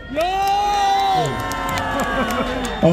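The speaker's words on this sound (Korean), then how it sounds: "함성과 박수로 한번 크게 질러주십시오." An outdoor anti-impeachment rally crowd in front of the Seoul Central District Court roars with loud shouts and whoops, sparse clapping mixed in. Overlapping voices swell near and strong, then break into shorter cries.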